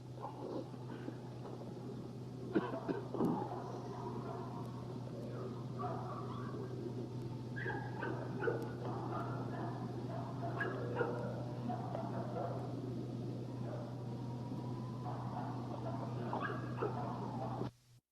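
Crossbones, a mother dog, with her litter of double-bred puppies in a yard: steady high yips, whimpers and small barks overlapping throughout, fairly close, over a constant low electrical hum.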